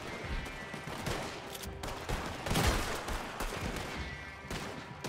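Rapid bursts of gunfire in the video game Red Dead Redemption 2 Online crackle continuously, with a louder volley near the middle, dense and sustained throughout.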